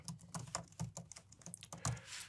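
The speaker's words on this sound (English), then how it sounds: "Now I'm going to type in my email address" Fingers tap out an email address on a computer keyboard, a quick irregular run of close, crisp key clicks with short pauses between bursts, no voices.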